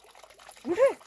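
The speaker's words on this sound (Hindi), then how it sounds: "आप नहाते हैं यहाँ पर ठंडे पानी का आनंद लेते हैं" Cold water pours in a short splash during outdoor bathing in a village, a brief gush rising near the end under a voice.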